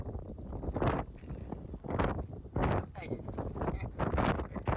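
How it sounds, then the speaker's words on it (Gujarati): Strong, gusty wind buffets the microphone on an open hilltop where snacks are being fried outdoors, roaring in repeated surges with people talking over it. "એટલો બધો પવન છે કે બોટલમાં તેલય નથી ભરી શકતા."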